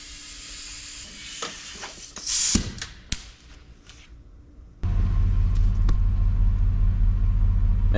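A truck engine cranks and catches, then settles into a steady, loud, low idle to warm up, after some earlier clicks and clatter.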